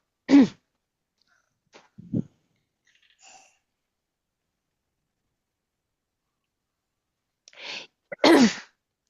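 Two sharp sneezes, one at the start and another near the end, with small throat sounds between and long stretches of quiet.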